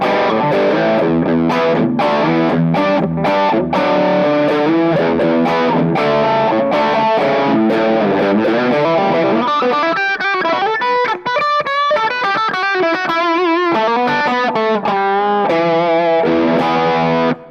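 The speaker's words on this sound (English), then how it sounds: "Next pedal up is the Sir Riot Distortion." An electric guitar played through a Sir Riot Distortion pedal gives a loud, heavy overdriven tone, first chopped rhythmic chords and then sustained, ringing notes and bends, with no talking.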